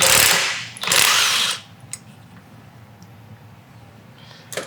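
A power tool runs in two loud bursts while working a pulley bolt off the crank of a long-parked, seized engine, then quieter clicks and mechanical handling follow.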